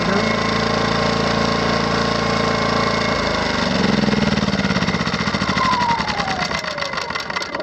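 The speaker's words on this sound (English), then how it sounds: "so let me shut it off with the switch on the generator" A Harbor Freight Predator 2000 portable generator engine running loudly, then switched off, its steady hum dropping away and winding down over several seconds with a fading whine.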